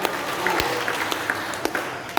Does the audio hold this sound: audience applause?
yes